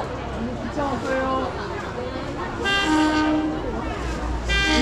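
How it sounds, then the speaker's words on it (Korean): A train pulls into Shifen station in Taiwan and sounds its horn in a couple of loud, sustained blasts over steady rail rumble, heard nearby with people talking throughout. "기차 왔어요."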